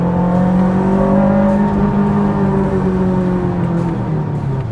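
A J's Racing-tuned Honda S2000 engine revs up close and loud, a smooth rising whine with strong harmonics that climbs and then eases slightly, alone without talk.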